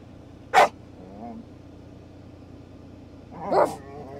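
Two dogs playfighting indoors give two short, sharp barks a few seconds apart, against a quiet background with low murmuring and a faint whimpering growl in between.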